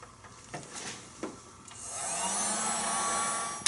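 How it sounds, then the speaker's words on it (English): After a few light handling knocks, a heat gun switches on and runs with a steady, whooshing fan-and-air roar, close and moderately loud, while sealing a VW Jetta A3 TDI glow plug harness wire. "This is the heat gun I've got."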